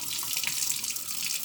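Water runs from a faucet and drains from rinsed rice in a kitchen sink, a soft continuous hiss and trickle heard close up for a brief moment.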